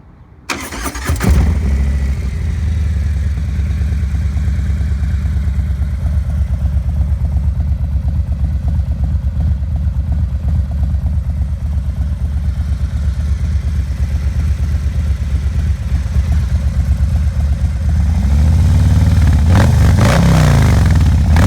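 Motorcycle fitted with a Stage 2 cam kit and slip-on exhausts, engine starting then running steadily with a deep, throaty rumble, loud and close, rising slightly near the end.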